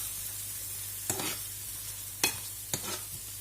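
Meatballs frying in a pan with a little water added, a steady low sizzle broken by three sharp utensil scrapes against the pan.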